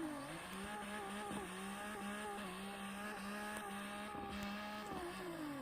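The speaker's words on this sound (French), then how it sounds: "Bon, on accélère pleine balle." An in-game car in CarX accelerates at full throttle, its engine droning loud and steady with repeated rising pitch sweeps as it climbs through gears. Brief tire noise may be mixed in, with no speech over it.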